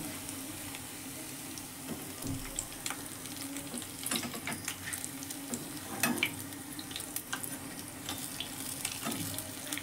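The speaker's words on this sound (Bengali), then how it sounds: "এবার এগুলোকে আমি ভালো করে আরেক সাইড ভেজে নেব" Khesari dal pakoras fry in hot oil in a pan, giving a faint, steady crackling sizzle with scattered sharper pops throughout, heard alone without talk.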